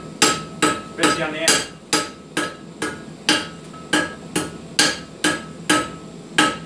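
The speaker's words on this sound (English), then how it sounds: "All over, everything on the anvil. Hit it, hit it, hit it, hit it." Hammer striking metal on an anvil made from a length of rail track, about fifteen sharp, ringing blows at a steady, unhurried pace, close and loud, with brief talk in between.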